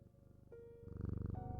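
A cat purring in the Strange Antiquities video game, a soft rhythmic rumble that swells in strength partway through, alongside a few sustained musical tones.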